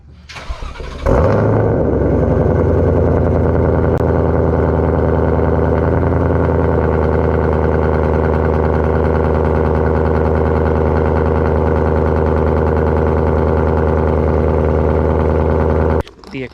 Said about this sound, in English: here's a really short cold start clip midday.